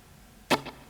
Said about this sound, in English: So here's what the little 16th note delay sounds like.